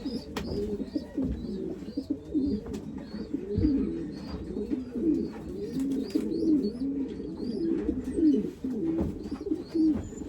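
Pigeons coo in low, rolling calls one after another, with faint higher chirps from other birds in the background.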